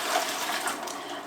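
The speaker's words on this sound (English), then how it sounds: "We're gonna put about 2 inches of water in the bottom" Water poured into the bottom of a pressure canner, about two inches deep, a close, steady rushing splash with no talking.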